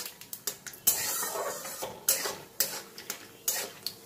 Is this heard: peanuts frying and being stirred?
yes